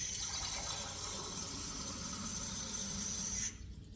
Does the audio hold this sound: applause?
no